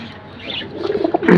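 Pigeons cooing close by, soft throaty warbles that build and grow louder toward the end, with no talking.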